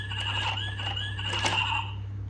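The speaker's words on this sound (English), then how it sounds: "this is the voice of a horse." Horse neigh sound effect played from a key on a children's toy keyboard, a synthetic whinny of about two seconds over a steady electronic hum.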